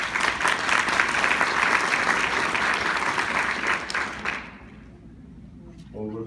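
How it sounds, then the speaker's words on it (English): A conference audience gives a big round of applause, loud dense clapping from a large crowd that holds steady for over four seconds, then tapers off into quiet before a speaker's voice returns. "So big applause for all of them."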